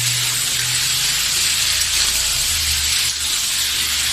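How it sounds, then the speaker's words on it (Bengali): Water running to rinse out a spice grinder jar, a loud steady tap-like gush and splash close by, continuous with slight shifts in tone, no talking. "জারটা ধুয়ে জলটুকু দিয়ে দিচ্ছি"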